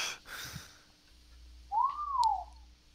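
A person whistles a single rising-then-falling note, fairly close and clear, after a few soft background rustles.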